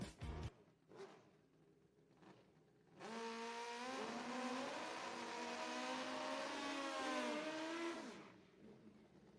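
Drag racing motorcycles in the 4.60 class launch and accelerate hard at a Midwest sportsman drag strip, a loud sustained rising engine roar lasting several seconds after a few brief blips, then fading.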